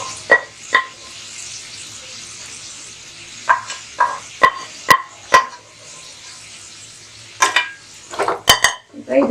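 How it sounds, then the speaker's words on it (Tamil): A spoon stirs lamb kidney in a pan, giving sharp, irregular metallic clinks and scrapes against the pan over a quiet frying hiss, with pauses between clusters of knocks. "இப்போ இதை வந்து நல்லா கலக்கி விடுங்க"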